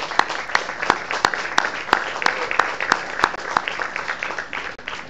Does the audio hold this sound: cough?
no